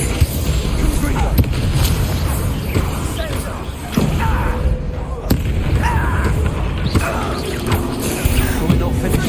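Confringo fire-blast spell in a wizard video game, repeated booming blasts and crashing pops through a loud, busy battle din.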